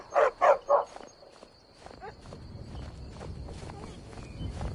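Three loud, close dog barks in quick succession open the scene in Skyrim, then give way to quieter footsteps and low ambient game sound.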